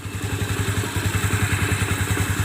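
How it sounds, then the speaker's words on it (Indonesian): A Yamaha Mio Smile scooter engine runs with its rear wheel spinning, giving a steady, rhythmic low putter with a light mechanical clatter that pulses evenly throughout. "rodanya udah bisa bergerak dan berputar, alhasil motor ini udah bisa jalan ya"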